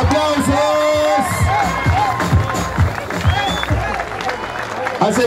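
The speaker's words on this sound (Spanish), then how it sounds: "Fuerte los aplausos" A crowd at a rally award ceremony in Formosa claps and cheers for the category winners, loud dense applause with whoops mixed with an amplified voice and crowd chatter.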